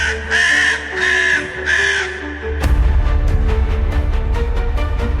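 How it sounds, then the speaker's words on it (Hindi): Several crows caw in an ominous series of harsh repeated calls, close and loud, first in three distinct cries and then in a quick run of shorter caws over a low background rumble. "तभी उनका ध्यान कौओं की अशुभ ध्वनि से टूटा।"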